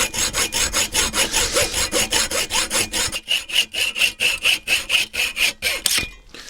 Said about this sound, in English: then hacksaw across its length.